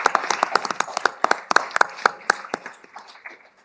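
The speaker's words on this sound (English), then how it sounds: "Let's give our panelists a big round of applause." Audience at a panel event clapping for panelists: a modest, close round of applause with distinct individual claps that thins out and fades toward the end.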